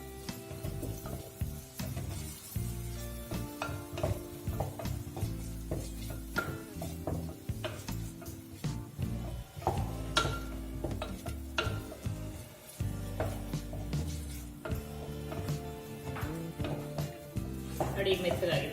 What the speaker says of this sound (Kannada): ನೋಡಿ ಇದು ಟೊಮೊಟೊ ಫ್ರೈ ಆಗ್ತಾ ಇರುತ್ತೆ.